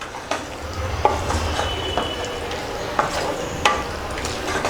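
Chicken being mixed in a pan over high heat for a village-style dry chicken, with a steady loud sizzle broken by repeated scraping and clacking strokes of a spoon, close up.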